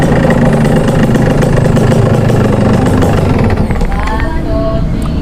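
A motorcycle engine idles with a steady low rumble close by on a street, loud and continuous, with voices talking nearby.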